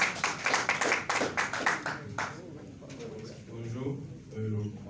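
A small crowd at an organised contest event claps for about two seconds, a brief burst of applause followed by someone speaking into a microphone.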